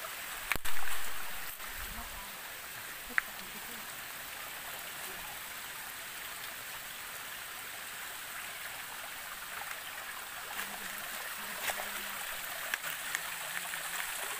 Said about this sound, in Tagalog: So mahina na talagang tubig